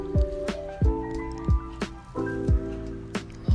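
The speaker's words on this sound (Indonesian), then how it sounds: "suara turunnya air dari pinggir sebuah atap rumah-rumah" Rainwater drips off a roof edge and splats at a slow, uneven rhythm, each drop a sharp, close plop with a ringing tail, with quiet background between them.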